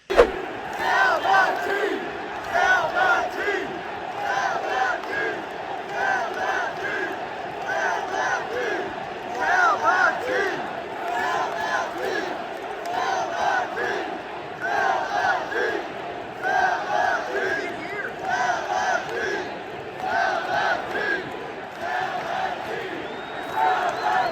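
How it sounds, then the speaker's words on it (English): A packed stadium crowd at the Oakland Coliseum chants "sell the team" during an A's baseball game, a loud, rhythmic mass of voices repeating in waves that rise and fall for the whole stretch. "The crowd was going nuts. Sell the team chants throughout the entire game."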